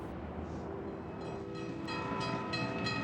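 Train rolling past on the rails, a continuous rumble with faint horn-like tones rising toward the end, heard alone at moderate distance.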